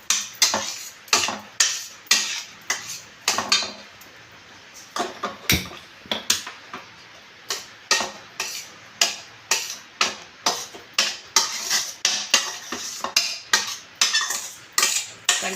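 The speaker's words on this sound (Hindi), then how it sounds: "इस तरीके से इसको बराबर चलाते रहते हैं। अगर हम नहीं चलाएंगे तो ये भी लग जाएगा।" Gujhiya filling roasting in a pan on a very low flame, stirred steadily: a rapid, regular train of scraping clicks from the spoon on the pan, loud and close, with no talk.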